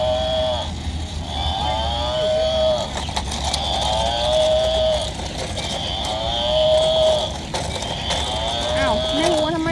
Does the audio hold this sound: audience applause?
no